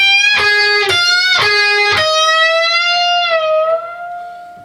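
Electric guitar solo phrase from a country rock tune: several picked notes with a string bent up a whole step, then released and bent back up into a long sustained, singing note, loud and clear with no voices.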